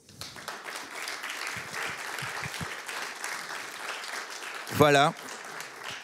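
An audience at a cultural talk and debate applauds steadily in a hall, a soft continuous patter of many hands, while a voice briefly speaks over it near the end.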